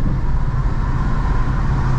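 A 1972 Plymouth Road Runner engine and exhaust while driving on a pothole-marked road, a steady low rumbling drone heard from inside the car, constant and fairly loud with no voices.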